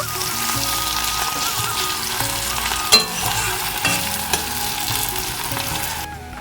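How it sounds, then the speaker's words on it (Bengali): Chopped onion fries in oil in a wok while being stirred, a continuous close sizzle broken by a few scraping knocks of the spatula against the metal, with no voices. "পেঁয়াজটা ভালো করে ভাজা ভাজা করে নেব"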